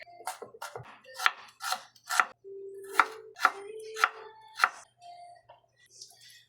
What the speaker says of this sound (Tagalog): while waiting, I chopped the other ingredients